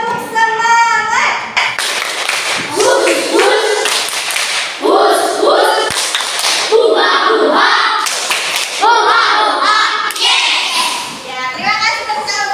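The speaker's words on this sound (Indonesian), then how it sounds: "Ibu akan memberikan tepuk-tepukan terlebih dahulu" Schoolchildren in a classroom clap a rhythmic cheer in unison, led by their teacher, with bursts of patterned hand claps mixed with children's chanting voices and chatter throughout.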